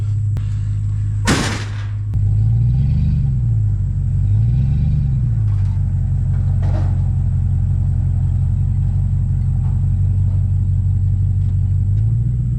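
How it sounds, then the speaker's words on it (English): An idling vehicle rumbles steadily up close as it drives out from under a homemade cab hoist in a frame-off restoration, with two gentle engine swells and a sharp bang just before it pulls away. "We should be all clear to drive out from under this."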